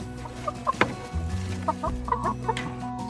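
Chickens clucking nearby in short, scattered calls, with soft background rustling and no talking.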